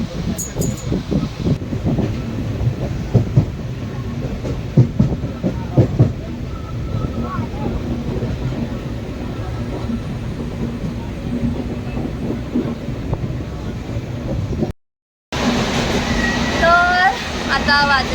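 A Diva–Chiplun MEMU commuter train runs steadily with continuous rumble and rhythmic wheel clatter, heard from inside the carriage while people talk over it; a brief dropout near the end is followed by louder close noise.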